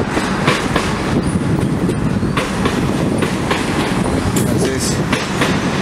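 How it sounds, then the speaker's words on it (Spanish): Loud, close rumble of a commuter train on a Melbourne rail line near Southern Cross, likely the Werribee service, with steady clickety-clack of wheels over rail joints and faint squeal, continuous throughout. "ese tren que están viendo ahí, yo creo que es el de Werribee"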